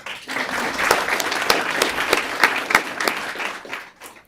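A school board meeting audience gives sustained applause for the 2023 varsity volleyball city champions, with steady dense clapping and scattered louder individual claps throughout.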